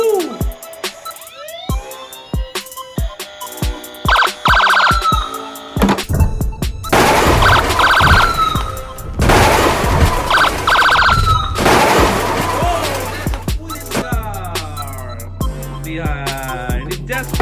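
A toy police car or fire truck gives off electronic siren wails and sweeping tones mixed with clattering crash and rapid-fire effects, loud and close, shifting through several patterns.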